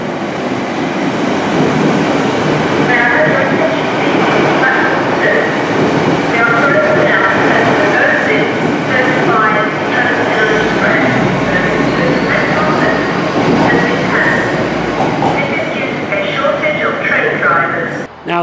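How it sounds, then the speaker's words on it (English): A LNER Azuma train rolls steadily past platform 2 in a loud, sustained rumble with whining tones and rail clatter, and people talk over it before it drops away at the end. "So that LNER Azuma should be arriving now to pass us here on platform 2 to head towards Shell Junction."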